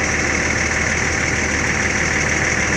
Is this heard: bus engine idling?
yes